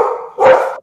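A dog barks loudly and close by in a home during an interview call, several sharp barks running together in a short burst before cutting off.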